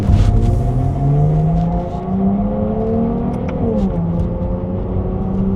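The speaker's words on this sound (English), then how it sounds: "Ferrari have really tuned the harmonics going through these exhausts to give it this cracking soundtrack." A Ferrari 296 GTB's 3-litre twin-turbo V6 hums and rises in pitch with a smooth, resonant exhaust note, briefly dipping before climbing again as it accelerates on mountain roads.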